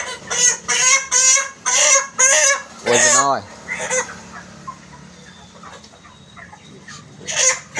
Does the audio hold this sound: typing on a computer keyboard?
no